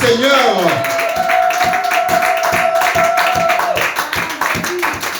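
A church congregation claps in steady rhythmic unison to acclaim the Lord, a dense run of even beats under a sustained sung or shouted voice, with crowd noise throughout.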